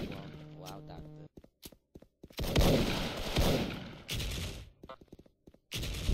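Gunfire in a video game, bursts of sharp shots and rapid automatic fire in loud clusters separated by brief quiet gaps, with a tonal game sound at the start and some shuffling between volleys.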